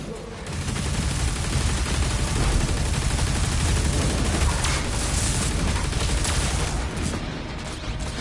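The Accelerator, a plasma weapon in DOOM: The Dark Ages, firing in a sustained, dense rapid stream of energy shots over heavy combat noise, loud and continuous for several seconds, while someone speaks beneath it.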